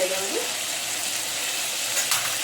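Brinjal and mixed vegetables with turmeric sizzle loudly in a pan as they are sautéed, a dense continuous frying hiss with a brief stirring scrape near the end.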